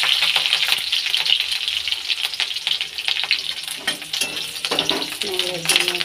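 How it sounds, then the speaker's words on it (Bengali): Curry leaves go into frying onion, and a continuous close sizzle crackles through with stirring clatter, while a voice talks faintly underneath. "এখন পেঁয়াজটা ভাজা হয়ে গেছে, কারি পাতা একটু দিয়ে দেবো।"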